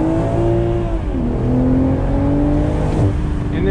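A 2020 BMW Z4 M40i accelerates hard with paddle shifts, its engine note climbing steadily and dropping at two quick upshifts, loud and close.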